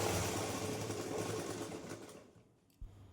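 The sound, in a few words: sewing machine stitching a blouse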